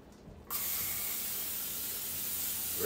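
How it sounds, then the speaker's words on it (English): Olive oil cooking spray is sprayed onto a pan: after a short quiet moment, a steady, close hiss of aerosol spray runs on without pause. "Got me some olive oil, and I'm gonna spray my pan down."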